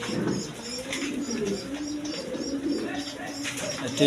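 Pigeons of various breeds kept in pairs with eggs and chicks, giving low throaty coos close by, with faint chirps and a flutter of activity in the background.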